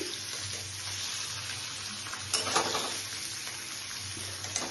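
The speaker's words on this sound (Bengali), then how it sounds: "তাই আমার পনিরগুলো ফ্রাই হয়ে গেছে, পনির ফ্রাই হয়ে গেছে।" Paneer pieces fry in oil for a dhaba-style curry, a steady, moderately quiet sizzle with a brief louder burst of crackling near the middle.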